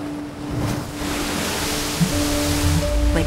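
Ocean waves roll in a loud, steady rushing surf that swells slightly, with a faint tonal hum underneath and no voices.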